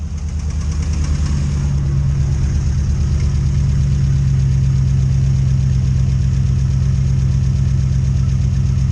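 An old truck engine, started for the first time in about a year, idles loudly and steadily up close, a low rumbling chug that runs unbroken throughout.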